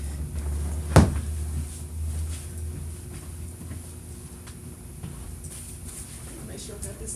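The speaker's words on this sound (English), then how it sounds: "Make sure I got this door up." A door bumps open with one sharp knock-like thud, followed by quiet room noise and faint rustling.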